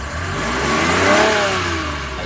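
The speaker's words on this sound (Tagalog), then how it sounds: "At susubukan natin ito ngayong i-revolution yung ating engine kung tumutunog pa po" A car engine revs up and settles back down, a loud, steady mid-pitched roar swelling and easing over about two seconds after a newly fitted alternator belt, with no squeal and no talking.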